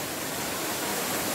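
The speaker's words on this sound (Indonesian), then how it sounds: "Ini air terjunnya." The Tumpak Sewu waterfall in Java, a dense, steady hiss of falling water filling the whole range, constant and fairly loud, with no talking over it.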